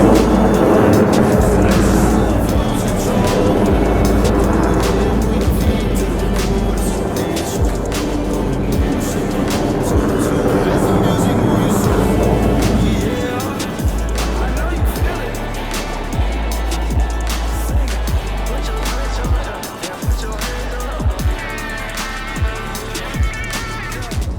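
A Blue Angels jet formation from the flight simulator DCS World roars past with a broad, heavy rumble, layered under background music with occasional voice.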